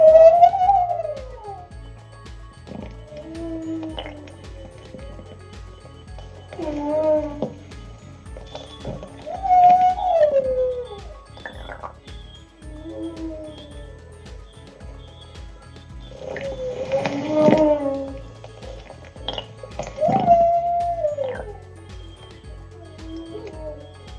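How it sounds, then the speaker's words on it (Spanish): Humpback whale song, sung by a male, with a sequence of moaning, rising and falling tonal calls repeated every few seconds over a low droning background. "este es un canto."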